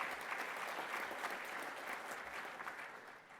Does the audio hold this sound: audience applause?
yes